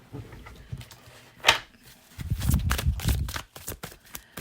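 Tarot cards being drawn and shuffled during a reading, giving close, papery riffles and soft slides with a sharp flick partway through and a denser shuffling stretch afterward, no voice over it.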